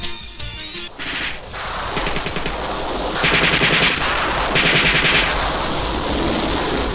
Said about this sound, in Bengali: ছাত্র জনতার উপর নির্বিচারে চালানো হল গুলি